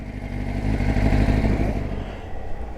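Kawasaki Z1000 motorcycle engine idling and running steadily close by, a continuous low rumble that swells slightly then settles, with no talking.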